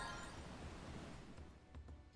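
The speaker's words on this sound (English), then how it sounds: "Oh, it's the waves!" Ocean waves crash along a shore in Final Fantasy XIV: Dawntrail, a steady broadband wash of surf rolling on without pause, with no voices over it.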